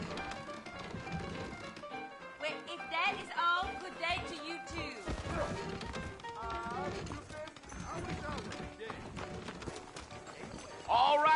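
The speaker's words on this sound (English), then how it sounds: "I got the horses saddled up and ready out front." Horse hooves clip-clop steadily beneath ongoing conversation between several voices, with game music and ambience filling the background in Red Dead Redemption.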